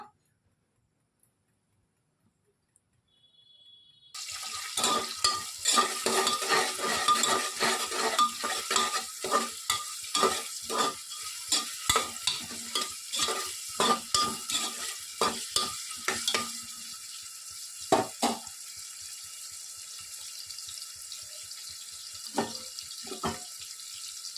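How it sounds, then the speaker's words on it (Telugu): Cinnamon, cloves and cardamom drop into well-heated oil after a few seconds of near silence and then sizzle loudly, with rapid stirring clatters that gradually thin out as the frying settles to a steady hiss. "ఆయిల్ బాగా హీట్ ఎక్కిన తర్వాత ఇందులోనికి కొద్దిగా చెక్క లవంగము యాలుకలను వేసుకుంటున్నాను"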